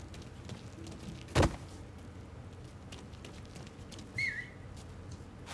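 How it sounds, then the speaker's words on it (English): A single short whistle tone rises out of a steady low ambient hum in the video game Mafia III, with a sharp thud earlier and no voices. "It's a whistle."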